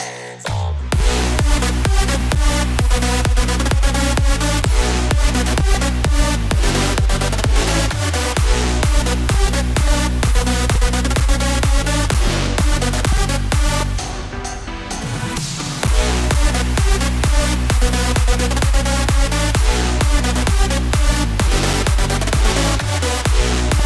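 A big room electronic drop built in FL Studio pounds with a loud, dense four-on-the-floor kick and bright layered leads, with a short breakdown and riser before the full drop slams back in.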